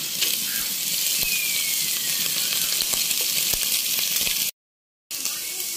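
Garlic and onion sizzle loudly in hot oil with beef, a dense, steady frying hiss that stays close and constant, with a brief cut to silence near the end.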